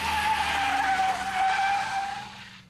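A road car on a skid-training cradle with hydraulic jacks at a racing school lets out a loud, sustained tire squeal that fades toward the end.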